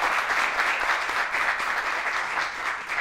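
Studio audience applause, a full, even wash of many hands clapping continuously for a few seconds with no talk.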